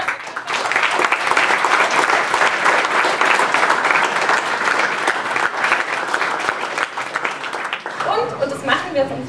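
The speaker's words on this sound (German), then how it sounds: "Also großer Applaus an die Mentoren." An audience at a youth hackathon's closing presentation applauds its mentors, a loud sustained burst of dense clapping that tapers off near the end as voices return.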